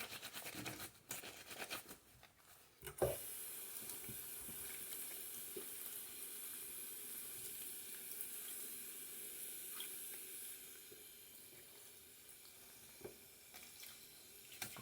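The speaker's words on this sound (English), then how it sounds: "Rinse good now. Don't leave a coating of soap." Tap water running steadily into a sink while rinsing off soap after scrubbing, a constant hiss lasting most of the clip after a brief burst of handling noise at the start.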